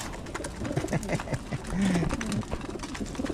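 Pigeons in a loft coo low and soft, with one drawn-out coo standing out midway among fainter bird calls and shuffling noise.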